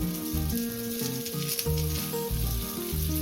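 Wheat opputtu, a sweet stuffed flatbread, sizzles steadily in a teaspoon of oil on a griddle. The frying hiss runs throughout beneath louder background music.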